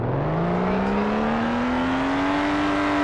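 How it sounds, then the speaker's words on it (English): A Lotus sports car in the Greenville driving game accelerates hard from a standstill toward 60 mph, its engine note climbing steadily in pitch as a loud, continuous roar with no talking. "let's do a little 0 to 60 here"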